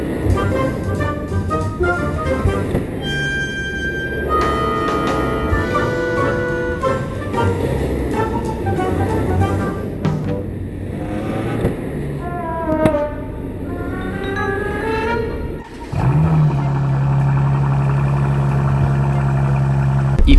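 A Mercedes-AMG C43 revs loudly, recorded close to the exhaust, pitch rising and falling through several surges, then drops to a deep rumbling idle near the end.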